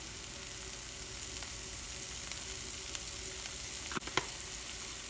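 Sliced Steak-Umm steak sautés in a hot pan with a steady, close sizzle and crackle, broken by a couple of sharp utensil clicks near the end.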